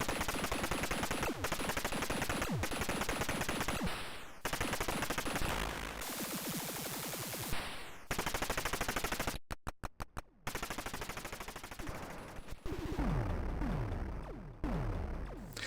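Atari arcade game Rescue, a shooting and piloting game, fires rapid bursts of electronic gunfire in dense repeating volleys, broken by short gaps and sweeping tones, loud and close with no talk.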